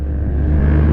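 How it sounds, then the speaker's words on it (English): A loud motorbike roars past close by, its engine rumble swelling steadily over a short moment. "And geez, that guy's bike is loud."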